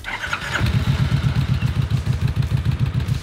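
A 1700 cc 52-degree V-twin on a Vaquero cruiser motorcycle, idling close by with an even, deep, lumpy thump, preceded by a brief clatter at the start.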